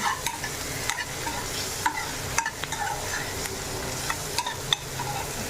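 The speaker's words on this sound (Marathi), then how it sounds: "कांदा फ्राय करायला आता हिला मस्त हलवून घ्यायचं." Onion frying in a pan for karli curry, with steady sizzle and repeated scraping stirs from a spoon.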